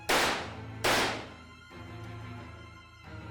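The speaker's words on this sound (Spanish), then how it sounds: "2 disparos secos que rebotaron en las paredes metálicas." Two sharp gunshots in quick succession, each followed by a ringing metallic reverberation, as if off metal walls, fading into a low hum.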